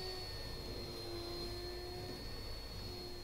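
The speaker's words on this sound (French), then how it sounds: "Bon, bah ça fait un bruit d'aspirateur." A vacuum cleaner running in The Sims 4, a faint steady mechanical whine with a sustained hum and high tonal whistle, continuous and alone without voices.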